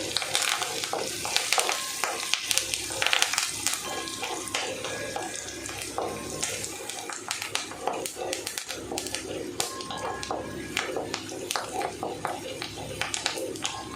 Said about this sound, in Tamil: வெங்காயம் நல்லா வந்து பொன்னிறமாக வதங்கணும்